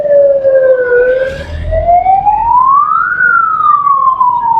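An ambulance siren wails, sweeping slowly up and down in pitch, loud and continuous, with low traffic rumble underneath, during a blackout in Kurali.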